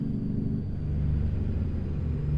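Continuous low engine rumble from a W900 semi in American Truck Simulator fitted with a modded engine and custom sound pack, a steady close drone that dips slightly in pitch early on, with no speech over it.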